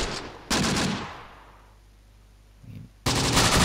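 Machine gun fire from enemy MGs in Close Combat: The Bloody First, with a loud sustained burst, a decaying lull with a faint thump, then another loud rattling burst.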